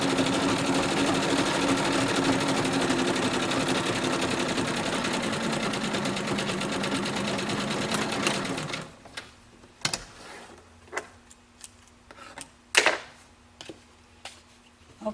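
A sewing machine stitches pockets for a patchwork skirt with a tight stitch, running in a steady loud whir for about eight seconds before stopping, followed by quiet handling clicks and taps.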